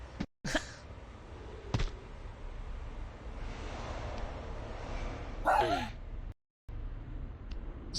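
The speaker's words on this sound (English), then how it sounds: "That was my dog." A pet dog barks a few sharp, scattered times in a quiet indoor room, the yelps spaced apart over faint background hum.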